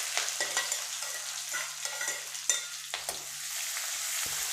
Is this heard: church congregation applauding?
no